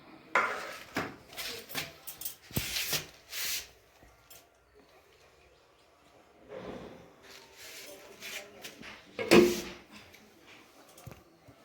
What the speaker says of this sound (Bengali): এবার কেটে নিই কী কী পেঁয়াজ রসুন যা যা লাগে সব কেটে নিই